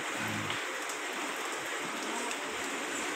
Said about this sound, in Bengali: ওদিকে বৃষ্টি পড়ছে